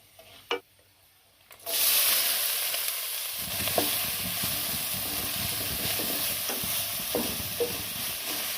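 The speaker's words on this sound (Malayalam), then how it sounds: "ഇനി നമുക്കിതിലേക്ക് ചേമ്പുംതാള് ഇട്ട് കൊടുക്കാം" Green taro stems drop into a pan of browned onions and chillies, then a steady, close sizzle and frying hiss continues with occasional scraping stirs, loud and unbroken after a quieter start.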